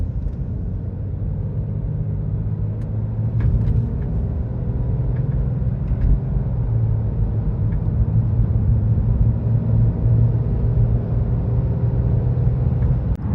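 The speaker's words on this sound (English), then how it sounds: "I'll show you as we get on the freeway how the noise increases, and it's pretty much just due to the tires and the wind" Tire and wind road noise fills the cabin of a BMW X5 on the freeway, a steady low rumble with a soft airy hiss above it, even and continuous, no voices.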